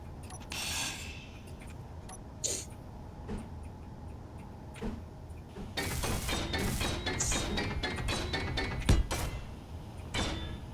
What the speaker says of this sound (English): I'll grab some light armor or steel plates and I'll weld up what was missed.